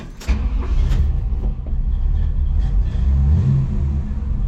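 A 1954 Chevy Cabover truck engine catches and runs close by, a deep, rough idle broken by a few revs rising and falling, loud and steady, with no voices.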